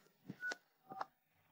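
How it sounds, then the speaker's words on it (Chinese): A cartoon character dials a telephone to call his parents, a short run of faint keypad tones in two brief pulses with a pause between, quiet and alone. "我打个电话和我爸妈说下吧，"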